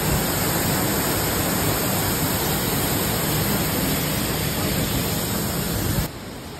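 Ulu Petanu waterfall near Ubud, Bali, roaring as a steady, dense wash of falling water that fills the whole stretch evenly, then drops slightly in level near the end, with no voices.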